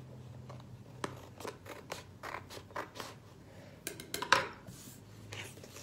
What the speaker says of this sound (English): anything sticking out you may have to take and trim off a little bit